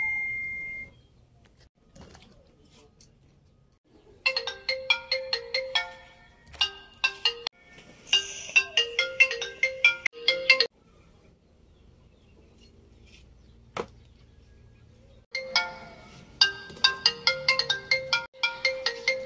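A mobile phone ringtone plays in repeated bursts for incoming calls, a bright melodic tune that starts, stops and starts again with quiet gaps between rings and no talking.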